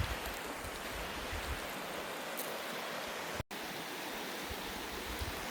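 Small waterfall splashing over rocks near a campsite, a steady, dense rush of water holding an even level throughout, with only a brief dropout partway through and no voices.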